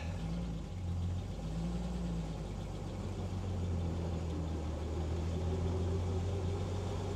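A 1952 Delahaye 235 Targa with Antem coachwork, right-hand drive, pulling away: a steady low engine drone with a rough mid-range rumble and slight changes in pitch, heard from inside the car with no talking.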